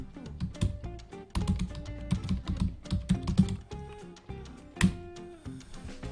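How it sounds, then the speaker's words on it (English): Keys clatter on a computer keyboard in irregular bursts of close, crisp clicks, pausing briefly between short runs of typing, with no talking. "Let's see if we can type that in."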